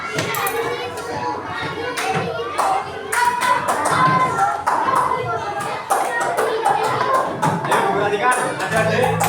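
Fourth-grade schoolchildren standing in a classroom clap their hands in a loud, dense, irregular patter that runs throughout, with children's voices and chatter mixed in close by.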